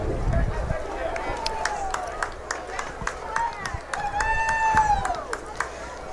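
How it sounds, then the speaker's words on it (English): A stadium crowd at a high school varsity football game claps sarcastically after a flag, scattered, uneven claps with whistles and crowd noise, heard at a distance under a commentator's talk. "You hear some sarcastic flag claps"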